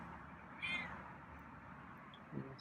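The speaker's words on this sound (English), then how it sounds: "didn't expect to get any meows" A single faint cat meow rises briefly out of a quiet hiss, followed later by a softer, shorter mew near the end.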